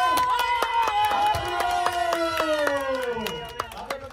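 Regular hand clapping at a family celebration around a musical chairs game, the claps keeping a steady beat under loud voices singing and talking close by.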